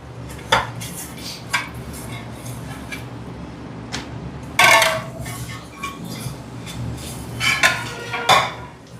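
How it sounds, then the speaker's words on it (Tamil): Metal pots, pans and cutlery clank and scrape in a kitchen sink as a pot crusted from boiling milk is scrubbed, with scattered sharp knocks and a couple of louder clattering bursts over a low steady hum. "ஃபுல்லா பாத்திரத்தை நம்ம தேய்ச்சி எடுத்துடலாங்க."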